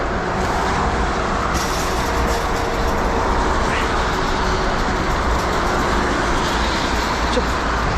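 Continuous traffic roar on the German autobahn, a dense steady wash of road and wind noise from fast-moving cars with no pauses.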